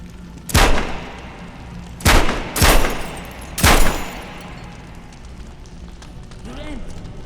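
Four sharp, loud gunshots in the Metro Awakening video game, one single and then spaced bursts, each with a short echoing tail, followed by quieter ambient background.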